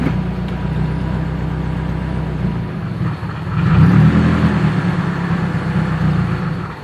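A car with a failing transmission runs steadily, a low engine drone with whirring hum that swells louder partway through as second gear is tried, heard close and continuous without speech.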